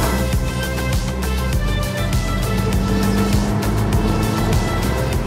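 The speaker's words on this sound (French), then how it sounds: "premier tunnel où on peut un petit peu écouter le V8" A Ferrari Roma V8 engine echoes through a road tunnel, a loud, smooth throbbing drone with a rhythmic pulse and a steady low roar that swells slightly partway through.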